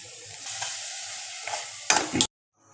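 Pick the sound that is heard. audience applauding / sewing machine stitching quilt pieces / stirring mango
stirring mango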